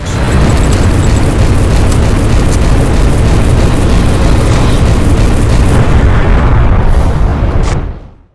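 Video game explosions from the PS2 Earth Defense Force title Monster Attack, a dense, loud, continuous barrage of booms and blasts that cuts off abruptly near the end.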